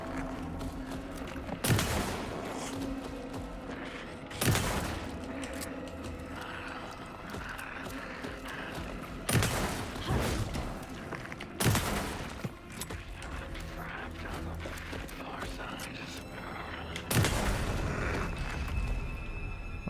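Gunfire from Alan Wake 2 comes as sharp, loud shots spaced a few seconds apart, about five blasts over a steady droning game background.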